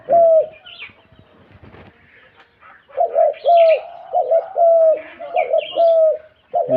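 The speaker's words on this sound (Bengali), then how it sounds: "দেখতেছেন আমার পাখিটা" A caged pet bird coos loudly and close, with one call, a pause, then a quick series of repeated coos and a few higher chirps mixed in.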